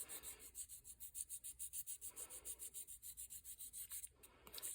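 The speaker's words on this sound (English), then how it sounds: "so we need to do some more sanding here." Jewelry being hand-sanded with 600 grit sandpaper to remove scratches: steady, quick back-and-forth rubbing strokes in an even rhythm, close and clear with no talking.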